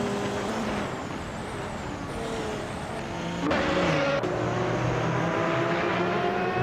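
Audi R18 race cars roar along a race track, a steady layered engine drone with rising and falling pitches, growing louder and fuller partway through as cars sweep closer, with no voices.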